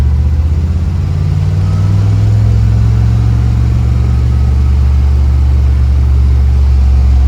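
A 1963 Chevrolet Corvette convertible with a 327 cubic-inch, 340 hp V8 and four-speed, driving in first gear around 30 mph: a loud, close, deep engine drone that rises slightly and then holds steady, with no talk.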